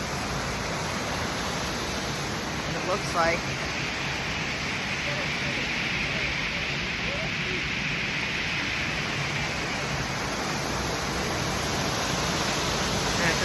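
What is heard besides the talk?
waterfall at the bottom of a gorge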